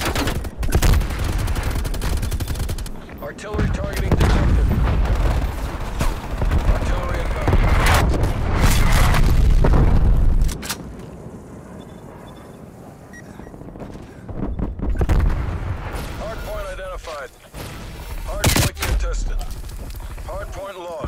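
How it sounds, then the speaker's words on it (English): Artillery strike explosions in the Black Ops Cold War video game, with loud booming blasts and gunfire bursts rolling through the first half, a quieter stretch, then more heavy impacts near the end. "Artillery targeting detected."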